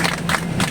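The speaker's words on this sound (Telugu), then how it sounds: "ఒకసారి అందరు గట్టిగా చప్పట్లు కొట్టండి" A group of people claps together loudly during a bus journey, a brief dense burst of applause.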